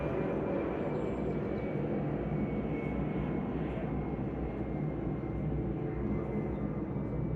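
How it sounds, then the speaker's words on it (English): Airplane passing overhead above São Paulo, a steady, broad engine rumble and roar that holds evenly throughout, fairly distant and alone without speech. "I don't know if you're gonna hear that over that plane."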